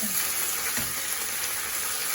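Sweet corn with yellow, red and green peppers sizzles steadily in a pan on high heat as added water reduces, a constant close frying hiss with faint stirring and no talk.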